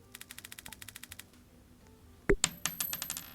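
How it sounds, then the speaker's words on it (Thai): Coins clink and drop with sharp metallic rings after a run of rapid light clicking, each hit bright and close with short ringing tails. "เฮ้ยมีเสียงเหรียญ"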